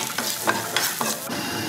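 Garlic frying in a little oil sizzles steadily, with four or five short, crisp bursts as it is stirred and tossed in the pan, and no talking over it.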